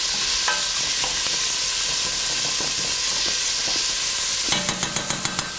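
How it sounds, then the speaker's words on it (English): Curried goat sizzles loudly in a pan while spices and seasonings are stirred through, with scraping strokes over constant hiss and a quick run of rhythmic spoon taps at the end. "Stir that around."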